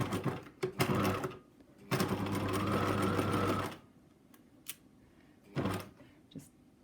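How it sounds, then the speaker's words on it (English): A sewing machine runs in two close bursts, about a second and then nearly two seconds long, stitching along a turned-under fabric edge a few millimetres in, with quiet handling clicks and shuffles between runs and no talk. "So we line it up now and we're just stitching along."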